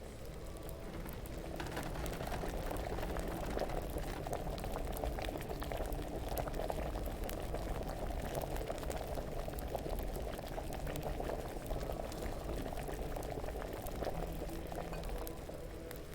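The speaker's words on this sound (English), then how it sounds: "The boiling subsiding." Alchemy brew boiling in a distillery in the video game Kingdom Come Deliverance, a steady bubbling roil that runs on unbroken at moderate loudness with no talk.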